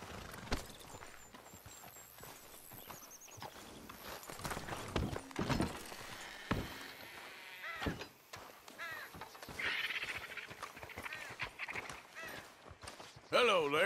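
Horse hooves walking in Red Dead Redemption 2, a steady clip-clop at close range, heard under speech, with crow caws and other game ambience around it.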